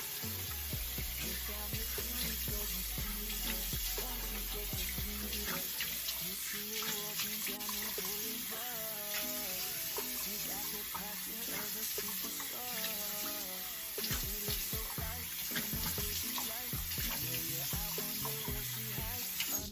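Water runs from a tap while a face scrub is rinsed off in a skincare routine, a steady close hiss with splashing and shifting trickles throughout, no talking.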